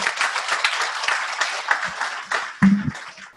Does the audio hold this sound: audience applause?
yes